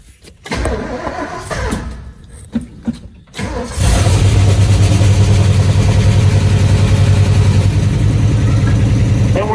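After a few seconds of clattering and cranking, an old abandoned junkyard Ford Bronco engine roars to life and keeps running loudly with a steady, rough rumble and exhaust noise.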